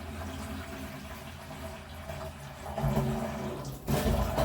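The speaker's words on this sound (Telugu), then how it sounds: "వంటకి వాటర్ ఇలాగే పట్టుకొని ఇవే యూజ్ చేస్తున్నాను" Water rushes from a tank-fed pipe into a bottle, the gushing growing louder and fuller toward the end.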